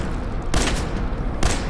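Two heavy shots boom roughly a second apart in Fallout 4, each loud and sharp over a constant roar of background noise.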